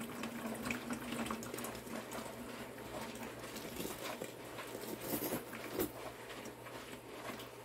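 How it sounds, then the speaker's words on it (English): Water pouring out of a Lot-O double barrel rock tumbler through a strainer, a steady faint splashing trickle with small patters under a low motor-like hum. "Let the water pour out."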